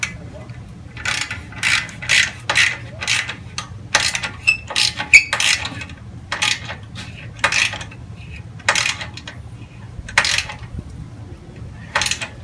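Socket ratchet clicking in short repeated bursts while tightening a 14 mm bolt on a clutch clamp of a Suzuki Boulevard motorcycle, close and crisp over a low background hum, with no talking.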